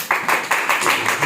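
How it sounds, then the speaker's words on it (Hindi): A church congregation claps in unison in loud, rhythmic bursts, about six regular beats in quick succession. "फिर अपने लिए तालियां बजाएं।"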